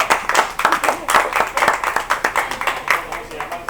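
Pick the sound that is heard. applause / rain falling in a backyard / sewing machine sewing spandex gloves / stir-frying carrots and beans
applause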